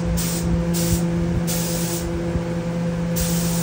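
A spray gun lays polyurethane finish over a tobacco sunburst mandolin in a spray booth, a steady close hiss in long bursts over a constant low booth hum, with no talk.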